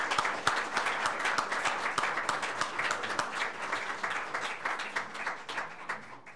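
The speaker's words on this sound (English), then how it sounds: "Give them a round of applause" Sustained applause from an indoor audience at a county commissioners' swearing-in ceremony, dense steady clapping that fades slightly toward the end.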